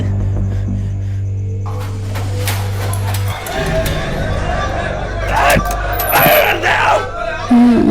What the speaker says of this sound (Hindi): इतनी रात को आकर कौन चिल्ला रहा है?